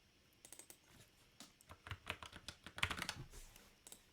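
Fingers tap out bursts of quick, uneven keystrokes on a computer keyboard, close and crisp, with short pauses between clusters and no voices.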